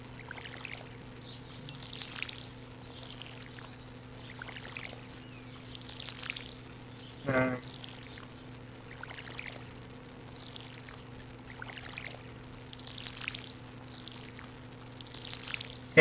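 Watering-can sound effect from the farming game Stardew Valley, a series of short pouring splashes repeating about once a second over quiet background music, with one brief louder thump midway.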